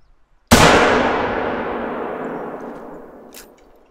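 One loud, sharp gunshot from a hunting video game cracks out and its echo rolls away slowly over several seconds, fading into quiet.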